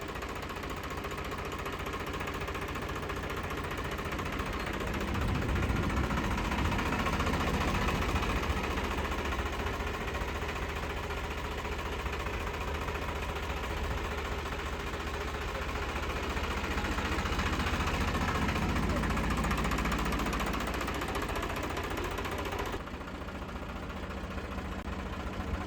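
A Deutz-Fahr Agrolux 50 tractor engine runs steadily at idle up close, a loud, continuous diesel clatter and knock with slight swells in level throughout and no talking.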